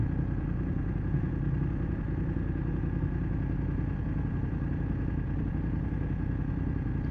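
BMW F750GS motorcycle riding along a country road on the north coast, a steady engine drone with road and wind rumble that holds throughout at close range, no talk.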